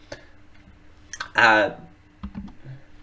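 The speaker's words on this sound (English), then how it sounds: "this is good radio, Dale, typing into the chat room" A computer keyboard is typed on during a live talk show. A few sparse, close clicks and taps are scattered under a man's speech.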